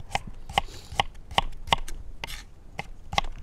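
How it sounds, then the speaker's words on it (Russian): Carrots are chopped coarsely with a knife, giving a steady series of about nine sharp, close blade strikes on a cutting board at an even rhythm, with no talking. "Приступаем к нарезке моркови."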